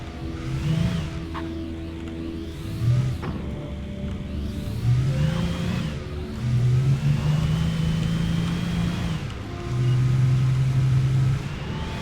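A car in Alan Wake drives on, its mid-pitched engine droning near and steady, revving up and settling back in several waves, with no talk over it.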